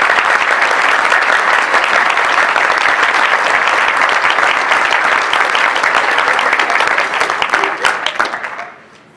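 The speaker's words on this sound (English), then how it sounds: "Another round of applause for Mary Ann" Sustained applause from the audience at an award ceremony, honouring a recipient named Mary Ann. Dense, steady clapping holds loud for about eight seconds, then thins out and fades to silence at the end.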